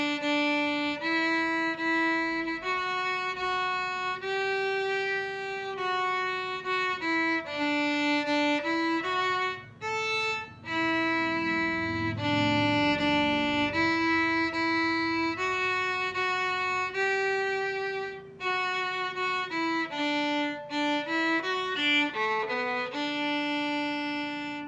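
Violin plays the fiddle tune Spotted Pony, a lively run of short bowed notes in steady dance rhythm with brief pauses between phrases, close and clear, no talking.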